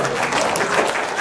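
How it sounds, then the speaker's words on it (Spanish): A church congregation at a missions congress in Cusco applauds, a dense, steady wash of many hands clapping close by throughout the short moment. "¿Cuándo le damos un aplauso al Señor?"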